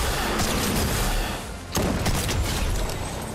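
Gunfire in the Fortnite video game: a dense, loud rattle of rapid shots lasting throughout, with a brief dip before the firing resumes.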